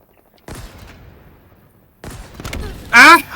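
Gunfire in the video game Halo Infinite comes in two sharp bursts with rumbling tails, then a voice cries out loudly near the end.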